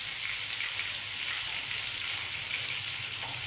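Eggplant rolls frying in hot oil give a steady, dense sizzle with fine crackling pops, close and even throughout with no voices.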